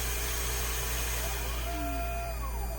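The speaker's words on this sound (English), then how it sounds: "Shut off the vacuum" A workshop vacuum on a metal-milling setup drones steadily, then its motor pitch slides downward as it is switched off, leaving a constant background hum.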